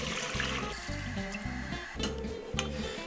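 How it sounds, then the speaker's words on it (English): Water pours steadily into a big pan, a continuous splashing trickle close by with a few louder splashes near the end. "we're going to fill it up with water"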